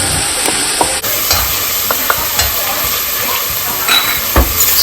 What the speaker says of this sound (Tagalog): Then drop in my minced ginger, followed by my minced garlic.